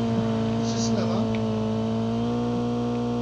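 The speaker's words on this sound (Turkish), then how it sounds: "Bir araba daha var ya." A car engine drones steadily and loudly in the mobile shooter Call of Duty Mobile, a constant hum with no clear revving, while players chatter faintly.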